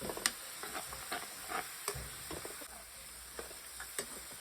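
Onions frying in oil for chicken biryani give a steady close sizzle with scattered crackles and pops and occasional stirring scrapes, continuous throughout.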